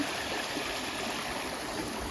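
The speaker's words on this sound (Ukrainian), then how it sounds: "Така гарна річка." A river flows near a concrete bridge in a rural Ukrainian village, giving a steady, even rush of water that stays soft and unbroken, with no voices.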